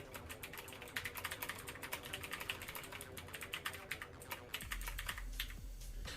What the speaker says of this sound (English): I've used this keyboard to produce the last several video scripts.